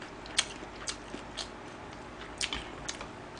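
Cheese ramen eaten with kimchi in a Korean mukbang, with a few soft, close chewing and biting sounds spaced irregularly over quiet, no talking.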